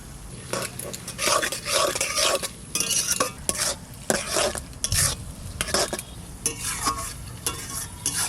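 Onions frying slowly in about 150 grams of oil, salted, with a utensil stirring them around the pan in bursts of scraping over a steady close sizzle, part of a chicken curry.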